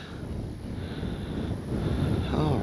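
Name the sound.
wind at RC plane flying field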